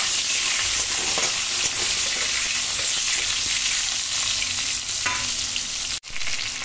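Tomato pieces added to a hot pan with potatoes for a potato and pointed gourd curry sizzle and fry loudly and steadily throughout, with stirring noises and a brief dip near the end.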